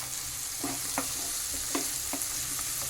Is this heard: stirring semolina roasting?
yes